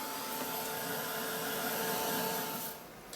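A handheld drying tool blows air over fresh paint in a steady, loud, close whoosh that holds for about three seconds, then drops away abruptly.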